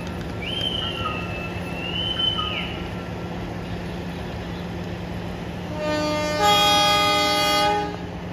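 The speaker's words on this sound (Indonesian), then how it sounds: "Kereta api Kauripan diberangkatkan kembali dari stasiun Nganjuk." The Kahuripan economy-class passenger train rumbles steadily along the tracks departing Nganjuk station, with a long horn blast near the start and a louder, harmonic whistle toward the end.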